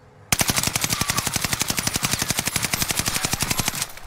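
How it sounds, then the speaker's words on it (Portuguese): An automatic weapon in the game Warzone fires one sustained burst of rapid, evenly spaced shots lasting nearly four seconds, loud and close, with no talk over it. "Eu vou atirar aqui, ó. E segurando o recuo agora a 20 metros."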